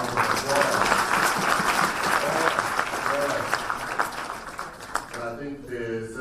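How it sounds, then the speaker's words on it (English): An indoor audience applauds a choir at a ministerial meeting with property practitioners, a dense steady clapping lasting several seconds before fading as a voice begins speaking. "Let's give them another round of applause."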